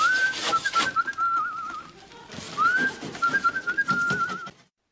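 A whistled tune tied to Tom from the British sitcom The Good Life: a bright, clear melody with sliding pitches, heard as two separate phrases with a short gap between them and no talking.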